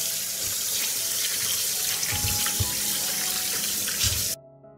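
Tap water running steadily into a sink while fresh tomatoes are washed, a close, continuous splashing rush that stops abruptly near the end.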